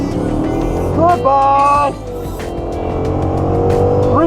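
Procharger-supercharged car launching hard at high elevation, loud engine roar building with rising harmonic pitch through a gear change, tire noise, and an excited voice shouting over it.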